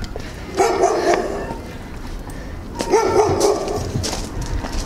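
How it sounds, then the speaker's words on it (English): Several dogs bark outdoors in two bursts of repeated barks, moderately close, over a background of ambient outdoor noise. "Got a lot of dogs around here."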